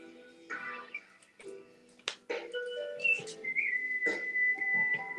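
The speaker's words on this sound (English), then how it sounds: "She's whistling." A woman whistles a tune live, with sustained pitched notes and short melodic runs, fairly close and clear, alone without talk.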